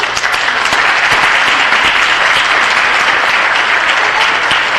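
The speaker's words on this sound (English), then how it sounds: "Let's give them a round of applause." Audience at a city council meeting bursts into loud, sustained applause, a dense wash of many hands clapping close by that holds steady for several seconds with no talk.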